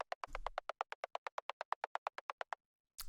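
A synthesized click made by passing white noise through a bandpass filter repeats as a rapid, even train of about twenty short ticks after one low thump, in an industrial techno production.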